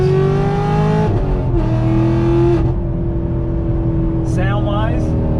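Chevrolet Camaro V8 engine revving, a loud rising roar that drops off and settles into a rumbling idle, with a brief tire chirp near the end.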